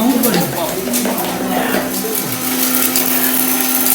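A mixer grinder whirs loudly and steadily while grinding ginger, its motor holding a constant hum, with people talking over it.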